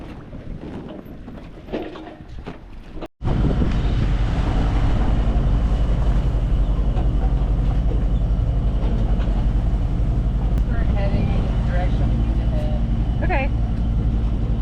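A cruising sailboat motors along under engine in light wind, a loud, steady low diesel drone with wind rush on the microphone, cutting in abruptly after a quieter opening, with voices over it.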